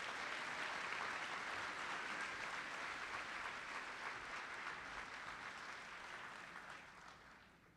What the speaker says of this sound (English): Let's give these seniors a huge round of applause.